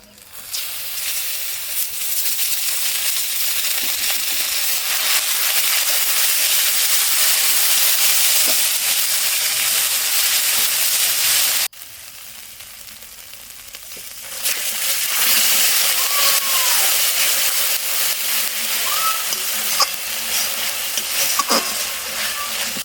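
Ground cumin, coriander and dried chilli paste fry in hot oil for a fish curry, giving a loud, continuous close-up sizzle with stirring scrapes, a brief quieter dip midway, then the hiss returning strong.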